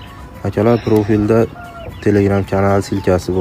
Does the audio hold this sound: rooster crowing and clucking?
yes